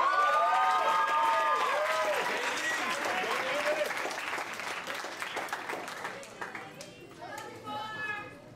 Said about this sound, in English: please give a round of applause for Daily Yang